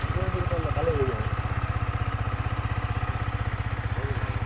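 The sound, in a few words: motorcycle engine idling in neutral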